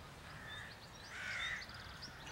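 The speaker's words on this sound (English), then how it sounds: "Hawks making some sounds in the background." Hawks call faintly in the distance at a village cricket match, a few scratchy, harsh cries rising and falling over low outdoor ambience.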